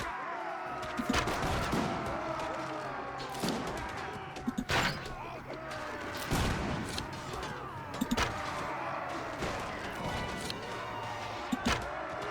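Gunfire sounds in the fantasy battle game Warsword Conquest, with repeated sharp shots and cracks at irregular intervals over a dense, chaotic battle din of clashing and crashing noises.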